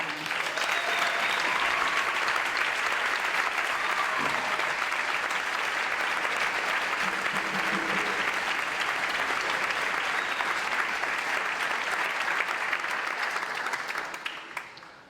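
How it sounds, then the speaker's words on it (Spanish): An audience at a folk music school gathering gives sustained applause, with even, dense clapping from a large crowd that holds steady for a long stretch and then fades out at the end. "Pido un aplauso, por favor."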